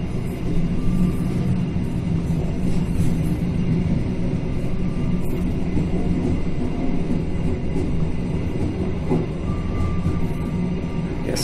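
The Pangandaran passenger train on the Gambir–Banjar route runs without stopping, a loud, continuous rumble and rattle of rail cars heard from on board.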